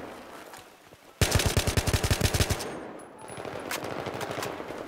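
A close burst of Battlefield 3 machine-gun fire opens abruptly, about a dozen hard, evenly spaced shots, followed by more distant crackling gunfire and a rumbling battle background as the burst fades out.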